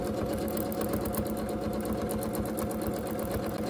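Sewing machine stitching a feathered paisley flower in free-motion quilting, a fast steady mechanical whirring and needle clatter running continuously and close.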